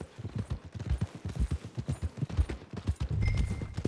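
Horse hooves clip-clopping at a steady walking rhythm in the Red Dead Redemption II video game, close and clear with a low muffled thud on each step and a brief tonal sound near the end.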